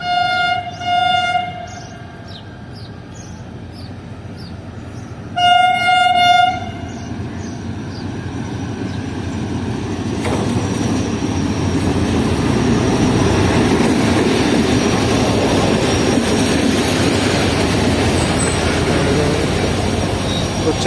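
The Shah Latif Express passenger train with a HUM30 locomotive in the lead sounds two loud horn blasts in the distance and then passes close by, its wagons building to a sustained heavy rumble and clatter.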